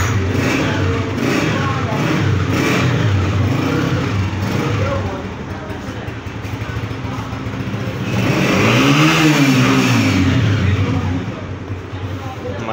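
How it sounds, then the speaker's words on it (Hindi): A Honda vehicle's engine, freshly serviced at a Honda shop, idles and then revs up in a rising, swelling roar, close and loud, with voices talking nearby. "गाड़ी का साउंड आप चेक करें।"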